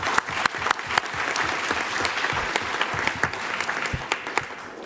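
An audience at a Hillsboro city council meeting applauds members of the Youth Advisory Council, sustained dense clapping with a few sharper individual claps standing out through the whole stretch.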